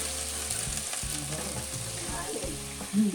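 Pancit noodles with cabbage fry in a little oil in a pan, giving a close, steady sizzle and crackle with a few stirring scrapes and no voices.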